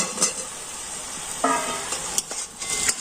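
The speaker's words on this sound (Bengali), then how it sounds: "এবার আমি ভেজে রাখা আলুটা দিয়ে দিচ্ছি" Fried potato pieces are stirred into cooked spices in a pan, a close sizzling hiss with scraping strokes and a few clinks of the utensil against the pan, no voices.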